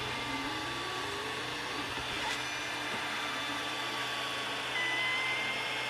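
A 3D printer runs while printing a dirt-bike disc guard, its plastic heated to about 248 degrees, giving a steady mechanical whir with faint stepper tones, close and continuous, with no one talking.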